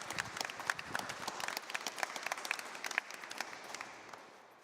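A small audience inside the Church of St Pierre in Jarnac applauds a speaker: distinct, sparse hand claps from a modest group in a reverberant room, fading out toward the end.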